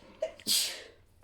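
A single sharp sneeze close by, a short explosive burst that fades quickly in an otherwise quiet indoor room.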